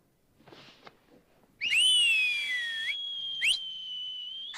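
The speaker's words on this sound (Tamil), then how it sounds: "தாத்தா உங்களுக்கு விசில் அடிக்க தெரியுமா?" An elderly grandfather whistles a sustained, wavering melodic tone that slides in pitch, clear and fairly loud, with a short higher whistle joining near the end after a brief softer sound at the start; heard in an animated Heidi cartoon dubbed in Tamil.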